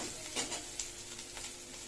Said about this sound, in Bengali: এই উচ্ছেগুলোকে এইভাবে ভেজে অল্প ভাজতে হবে